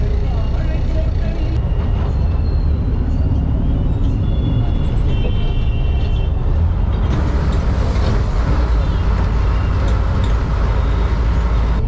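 Loud city bus interior rumble in Chennai, India, with engine drone and road noise, a hiss like air brakes toward the end as the bus stops, and voices talking faintly underneath.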